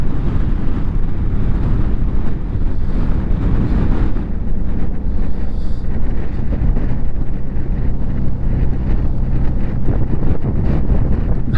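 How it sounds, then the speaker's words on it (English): Strong wind roars and buffets constantly on a motorcycle ride up Pikes Peak under a wind advisory, loud, close and unbroken, with a deep rumble and gusting hiss. "There's the wind again."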